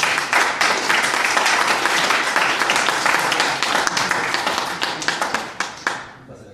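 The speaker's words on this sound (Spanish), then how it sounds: "damos un aplauso a nosotros." Clapping from an audience at the close of a philosophy conference panel, dense and steady for about five seconds, then thinning into scattered claps before fading out.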